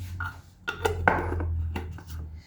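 A dish knocks down onto a hard surface with a few clattering clinks over a steady low hum, as a cook readies it for preparing couscous; close and moderately loud, with no speech.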